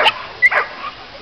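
At a dog show, a dog gives a few short, high-pitched yips and whimpers, close and fairly loud, with quiet between them.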